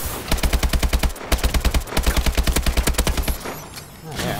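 Rapid automatic gunfire in the Call of Duty Advanced Warfare video game: loud, close bursts of evenly spaced shots with a short gap, then a burst resuming near the end.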